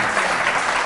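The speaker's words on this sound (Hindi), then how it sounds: "तालियां बजा दो" Steady applause from a TV studio audience, a brief burst of clapping at moderate loudness with no talking.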